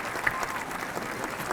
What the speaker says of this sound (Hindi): और जोरदार तालियां हो जाए इनके लिए।